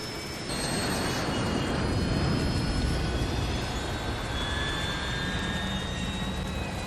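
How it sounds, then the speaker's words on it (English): Airplane jet engine during the crash scene in the film Cast Away, a loud, steady roaring whine with high whistling tones that starts abruptly and keeps going without a break. "Yo, the engine."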